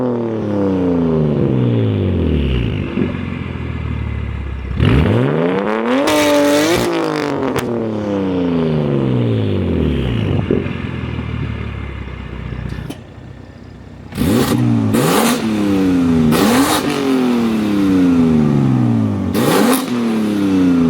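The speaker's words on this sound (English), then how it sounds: "this is how the Alibaba Valvetronic exhaust sounds like" A BMW F80 M3 fitted with an aftermarket Valvetronic-style clone exhaust revs hard and loud, close by, in a run of repeated throttle blips that climb and fall, with crackling pops on some lifts and no talking.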